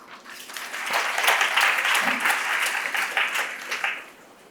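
Audience at a YFLO Delhi ladies' organisation event breaks into loud, sustained applause with cheering, a dense wash of clapping that swells and holds for several seconds before tapering off.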